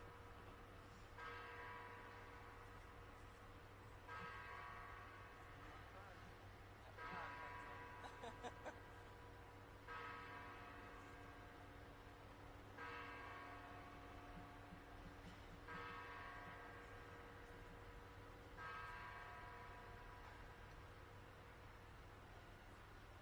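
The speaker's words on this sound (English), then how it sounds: "I'm going to let the bell finish ringing" Church bells toll at a live protest press event, a faint, distant series of evenly spaced strikes about every three seconds over a steady low hum.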